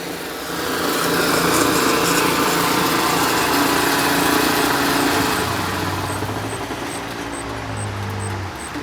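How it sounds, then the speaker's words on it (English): A lawn mower drones steadily in the background outdoors beside a public sidewalk, a continuous high engine whine holding for several seconds without a break. "sorry about the mower in the background"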